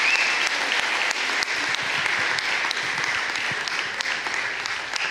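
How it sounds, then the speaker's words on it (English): A squash audience at the SA Open 2023 semi-finals applauds in a steady, dense wash of clapping that holds for the whole stretch without letup. "I just wanted to say another big round of applause to these gentlemen"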